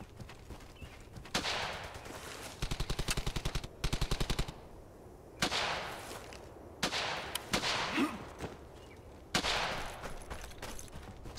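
Machine gun fire in the World War II shooter Brothers in Arms: Hell's Highway comes in loud, rapid bursts between heavy single blasts and booming impacts, with quieter battle ambience in the gaps.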